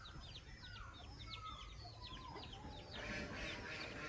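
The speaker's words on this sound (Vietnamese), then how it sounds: "Ở bên trong này thì mình nuôi gà nha mọi người." Chickens kept in a backyard coop cluck and chirp in quick, overlapping bursts, fairly faint and distant-sounding against a steady outdoor background.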